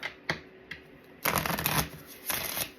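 A tarot card deck is shuffled close by, with a few quick riffles first and then two longer flurries of rapid card flutter.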